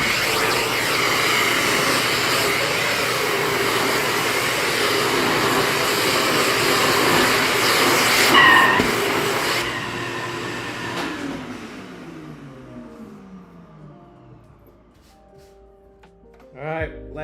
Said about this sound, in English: Vacuuming that out.